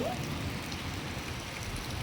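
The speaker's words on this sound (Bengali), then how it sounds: "পুকুরে কত সুন্দর লাগছে বৃষ্টি দেখতে।" Rain pours onto a pond in a steady, dense patter of drops, a continuous wash of sound with no talking.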